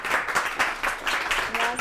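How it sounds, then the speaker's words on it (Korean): Studio audience clapping to welcome a speaker onto the stage of a lecture show, brief bursts of applause with some talk layered underneath. "김은나 대표님을 큰 박수로 자리에 모셔볼게요."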